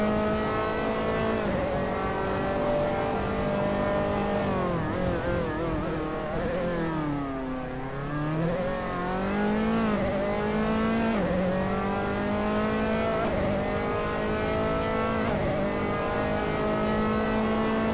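Race cars in the Assetto Corsa video game, Formula 3 cars at Norisring, accelerate out of a corner with loud, continuous engine whine that rises in pitch through the gears, dipping briefly before climbing again, with no talk over it.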